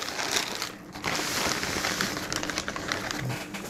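Plastic crinkles and crackles continuously as a Postmates delivery kit bag is handled and opened, close and fairly quiet, with no one talking.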